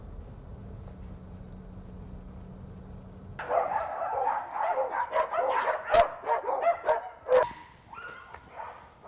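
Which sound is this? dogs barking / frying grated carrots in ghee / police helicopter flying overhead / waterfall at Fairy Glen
dogs barking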